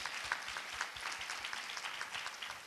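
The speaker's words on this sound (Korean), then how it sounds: "함께 박수 한번 부탁드리겠습니다." Applause from a young adults' church congregation during a Sunday worship service, a soft, continuous patter of many hands heard at a distance and fairly faint.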